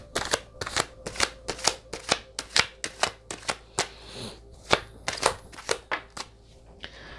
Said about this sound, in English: Let's pull some cards on this.